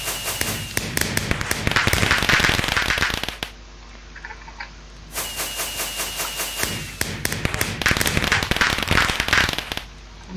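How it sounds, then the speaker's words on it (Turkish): Repeated bursts of explosion sounds in the video game Minecraft, loud crackling and popping blasts in two long clusters separated by a quieter gap, with no talking. "şimdi bir patlama sesi geliyor ama."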